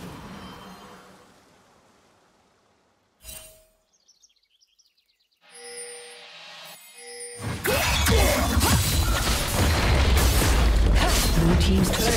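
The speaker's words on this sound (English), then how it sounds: "Blue team's turret has been destroyed." A turret explodes in League of Legends with a heavy, loud boom and crashing burst near the end, preceded by quieter game effects, chimes and a sharp pop.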